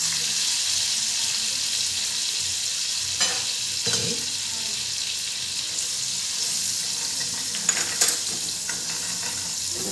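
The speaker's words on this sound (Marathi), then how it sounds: "आता जिरं मोहरी तळतळलेली, वाटण केलेलं हे टाकून घेऊ आपण." Ground masala paste sautéing in hot oil with crackling cumin and mustard seeds for kadhi, a steady broadband sizzle with a couple of brief stirring scrapes and clinks, close and continuous with no talking.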